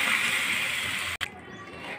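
Water is poured into a potato curry gravy in a home kitchen, a steady close hiss and gush that cuts out briefly near the end before a quieter trickle resumes.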